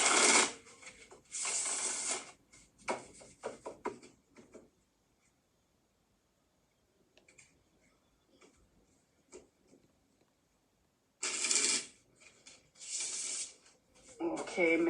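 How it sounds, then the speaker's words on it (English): A deck of tarot cards is shuffled close by in loud, rapid riffling bursts, pausing for a long quiet stretch before the shuffling resumes. "So let me just shuffle the cards and let's see what you're going to receive."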